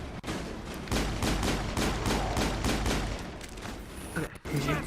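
Shotgun and other gunfire in a Mass Effect firefight, a rapid run of loud booming shots with scattered game effects and a brief pause near the end.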